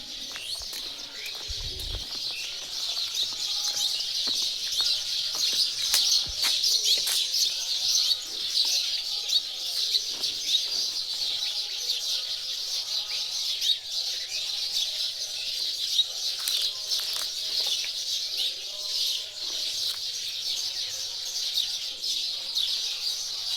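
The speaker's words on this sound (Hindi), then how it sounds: "एकदम प्यारा सा आवाज़ चिड़ियों का मॉर्निंग" Many birds chirp and twitter continuously in a bright morning chorus, steady and close, with no voices.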